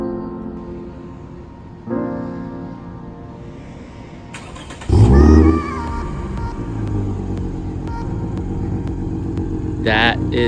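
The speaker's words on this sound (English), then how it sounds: "that is actually the remote start from the Lexus Enform" A Lexus engine is started remotely through the Lexus Enform system. After a quiet electronic hum and soft tones, the engine cranks with a loud burst, then settles into a steady low idle, with a brief chirp near the end.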